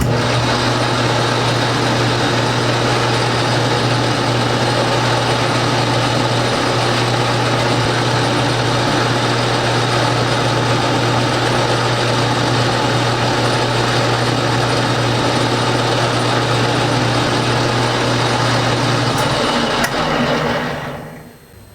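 A metal lathe running steadily and loudly while turning a part down to a half-inch diameter, with a constant motor hum and a machining drone that continue unbroken before winding down at the end.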